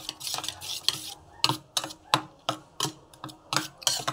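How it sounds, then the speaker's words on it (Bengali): A spoon scrapes and clacks against a pan while mustard-spice curry is stirred, giving a steady run of sharp, close metallic strokes about every half second with no talk. "ভালো করে একটু মিশিয়ে নিচ্ছে।"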